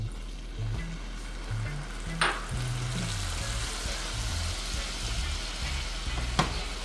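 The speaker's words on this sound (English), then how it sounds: "we're going to let this cook for a little bit on low heat, let it simmer" Bourbon glaze simmering over low heat in a pan after caramel forms, a steady close frying sizzle with faint bubbling and a couple of brief clinks, no voices.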